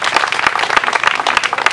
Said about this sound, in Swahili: Jamani, si tumpige makofi.